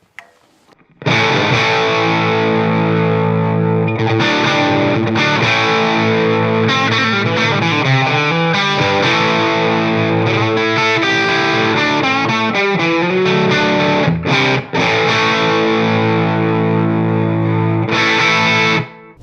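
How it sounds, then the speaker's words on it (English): Distorted electric guitar played through a Suhr SL15 amplifier at very low volume, chords and riffs ringing out with heavy effects, quiet overall but full-toned, no talking. "what this amp at a very low level sounds like"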